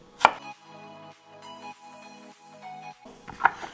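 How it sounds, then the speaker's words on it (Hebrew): A knife cutting vegetable pieces for gazpacho: two sharp board knocks, one at the start and one near the end, with a faint ringing hum between them, close and isolated, nobody speaking. "אני הולך לחתוך לחתיכות כאלו"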